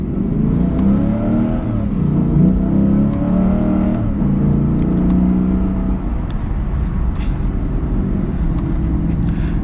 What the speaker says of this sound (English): We'll do another acceleration.